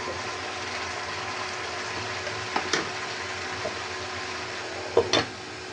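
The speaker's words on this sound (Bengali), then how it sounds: "এখন দেখুন ওখানে আস্তে আস্তে নেড়ে দেবো এইভাবে সবজিটা" Soft, steady sizzling of vegetables in a pan with a few brief scraping stirs, mostly near the end; no one speaks.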